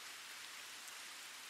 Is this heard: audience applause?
no